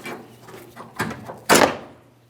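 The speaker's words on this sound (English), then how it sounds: "Close the tailgate." Tailgate of a 1998-2002 Lincoln Navigator being shut: a couple of light rattling bumps, then one loud, close slam as the gate latches, fading quickly into quiet.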